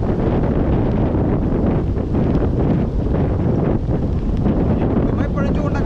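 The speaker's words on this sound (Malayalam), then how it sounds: "ഇങ്ങനത്തെ കാറ്റ്" Strong wind at the seashore during heavy monsoon rain buffets the microphone in a loud, continuous roar, with gusting rumble and rough surf-like noise throughout.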